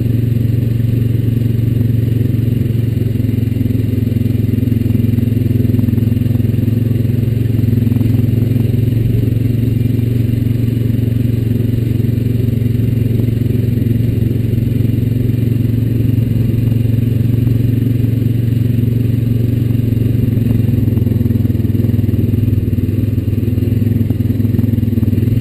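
A Honda Rancher 420 ATV rides a trail around tobacco fields, its mid-pitched engine droning loud and close for the whole stretch, with faint rattling and scraping mixed in.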